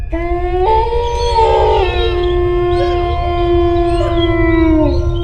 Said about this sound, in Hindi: तभी ये भेड़िया झाड़ी के पीछे से भौंकता है